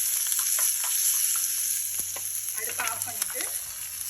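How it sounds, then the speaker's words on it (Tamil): Mustard seeds, curry leaves, green chili and asafoetida tempering in hot oil for Karadaiyan Nombu adai, a steady loud sizzle with a few faint stirring scrapes and crackles throughout. "இதை வந்து ஒரு புரட்டிட்டு அடுப்பை ஆஃப் பண்ணிவிட்டு"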